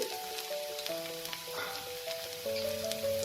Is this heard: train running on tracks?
no